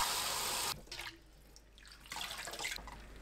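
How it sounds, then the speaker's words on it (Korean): Cold tap water runs over blanched bean sprouts in a strainer, a close splashing gush that breaks off briefly into faint dripping before resuming. "바로 찬물에 헹궈주세요."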